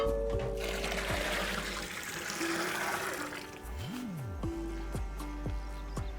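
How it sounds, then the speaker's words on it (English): Water poured into a pot of sambar during cooking, a steady splashing stream for several seconds with a low hum and faint kitchen tones underneath. "Add enough water."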